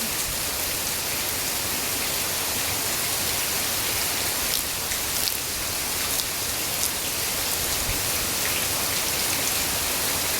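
Heavy rain pours down in Pondicherry, a dense, constant hiss of countless drops hitting surfaces, loud and unbroken throughout.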